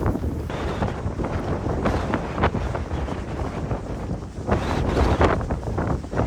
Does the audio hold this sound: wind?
yes